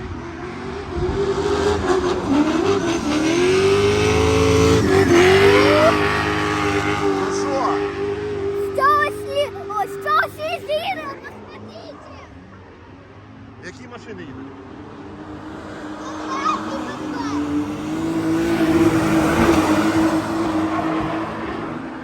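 Drift cars on a track at Feofaniia, engines revving loud and rising and falling, with sharp tire squeals in the middle and another surge later, as people talk over the noise.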